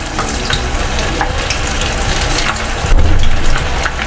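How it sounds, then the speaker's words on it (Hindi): Kofta balls deep-frying in hot oil over a medium flame, giving a dense, steady sizzle and crackle that runs throughout, close and fairly loud, with no speech. "हर वारी चार तो पाँच कोफ्ते पा के फ्राई कर लेना।"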